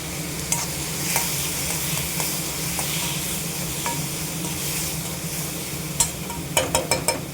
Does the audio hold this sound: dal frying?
yes